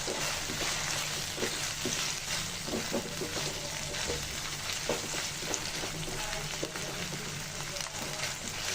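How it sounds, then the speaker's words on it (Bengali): Chicken frying in a pan with raw ground spices for chola bhuna, a steady dense sizzle with repeated stirring scrapes throughout, close and loud, no talking. "চিকেনটা দিয়ে কাঁচা মশলার সাথে ভেজে নিয়েছি"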